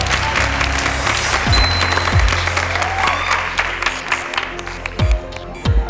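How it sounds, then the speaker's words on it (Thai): Audience applause at a televised Thai dance weight-loss competition show, a steady clapping crowd throughout with a few louder low thumps near the end. "ขอเสียงปรบมือให้เธอค่ะ"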